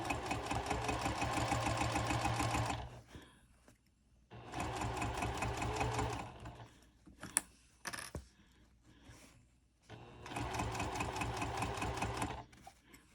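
A sewing machine stitches layered fabric pieces of a wristlet clutch in three steady, rapid bursts of mechanical whirring, separated by quiet pauses with light handling clicks.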